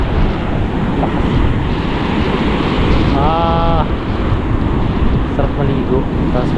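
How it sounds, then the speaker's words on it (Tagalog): Heavy surf roars continuously with strong wind buffeting the microphone, a loud, unbroken wash of crashing waves. A voice is briefly heard under the noise. "Kaso lang malakas yung alon"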